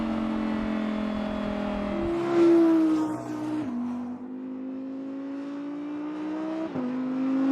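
2023 Audi R8 Coupé V10 GT with its 5.2-liter naturally aspirated V10, a loud sustained engine howl that climbs, drops at a shift, then rises steadily again, close and alone.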